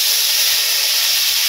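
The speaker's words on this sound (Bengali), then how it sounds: "মশলাটা কষে নিতেছি," Spice paste of turmeric, salt, chili powder and ground cumin frying in a pan, a steady, even hiss with no breaks, close and fairly loud.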